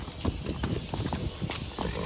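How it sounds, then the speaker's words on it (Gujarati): Hooves of a Kathiawari mare clip-clop in a quick, even rhythm, fairly close and distinct, with a faint background murmur. "આ બાજુ આ ઘોડી છે"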